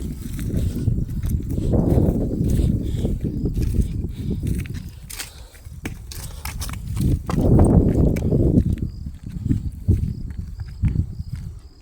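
A cow led along on foot by a farmer, its hooves thudding in an irregular walking rhythm on rough ground, with brushing footsteps of people following close behind.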